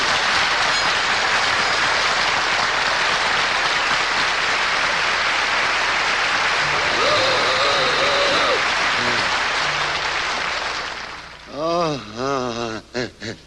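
A French harp (harmonica) imitates a train on a televised comedy music show: long, loud audience applause, then wailing, bending harmonica notes and short chugging blasts at the end.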